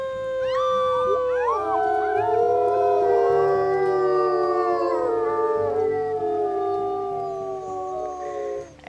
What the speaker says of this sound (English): Getting some howling in the distance.